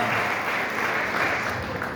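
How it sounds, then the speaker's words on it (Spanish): A church congregation applauds in praise at a convention-centre service, a steady dense wash of many hands clapping without a break, moderately loud and fairly close. "Fuerte el aplauso al Señor, hermano"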